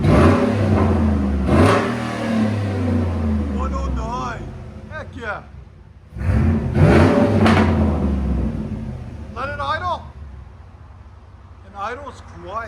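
Ford Raptor engine revs twice through an aftermarket muffler, each rising to a loud, deep roar and falling back, with pops on the decay and people talking between the revs.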